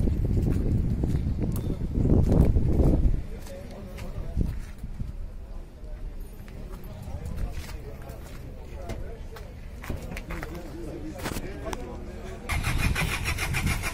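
A 2005 SsangYong Musso with a 2.5-litre turbodiesel starts up at a car market: a loud, rough cranking catch settles into a steady, lower diesel idle, with people talking nearby throughout.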